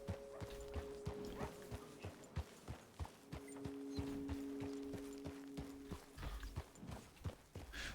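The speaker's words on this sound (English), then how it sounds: "I hear a horse." Horse hooves in Red Dead Redemption 2 make a steady clip-clop of many evenly spaced hoofbeats that draws closer and stays clearly audible, joined by a low steady tone and a faint mechanical rattle.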